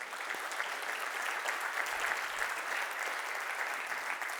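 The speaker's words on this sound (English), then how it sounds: "So can we just have a round of applause for Bob Gilbert?" A conference audience gives a steady round of applause, even and sustained throughout with no voices over it.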